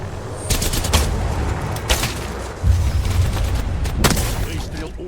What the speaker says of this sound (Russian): выстрел умной пулей